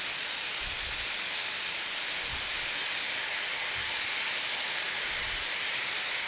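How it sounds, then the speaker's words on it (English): Glazed pork ribs with a Thai coconut, curry and fish sauce glaze sizzle on a grill, a steady, close, hissing sizzle running throughout with faint low thumps and no talking. "you can start to turn those again and caramelize that glaze even more over each side"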